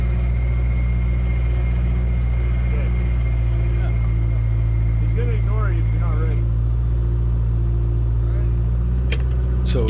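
A drilling rig's auger bores a hole for a 12-inch concrete pile at a grade beam foundation site, a loud, constant engine drone with steady harmonic hum and occasional faint clanks.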